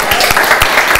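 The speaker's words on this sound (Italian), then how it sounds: "con un applauso grande" A television studio audience at a Naples music special gives a big hand, loud continuous clapping with no voices over it.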